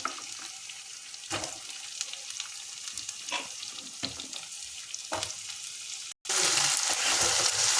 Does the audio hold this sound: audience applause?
no